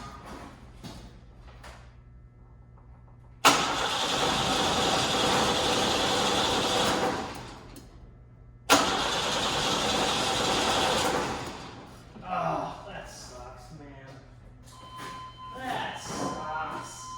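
Two long bursts of a 1955 Ford F100 truck engine cranking with a rapid whirring rhythm, the starter grinding close by. It doesn't catch, and people talk afterward.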